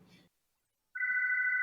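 A telephone rings in the background of a talk or interview, a steady electronic ring that starts abruptly after a brief voice and a pause of silence, continuing clearly to the end.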